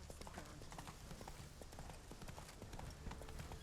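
In The Witcher 3, a horse gallops with rapid rhythmic hoofbeats, a quiet but continuous clip-clop with a slight thump near the end.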